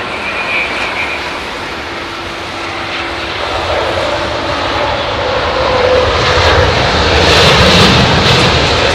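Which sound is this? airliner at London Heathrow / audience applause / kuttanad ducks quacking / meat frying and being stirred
airliner at London Heathrow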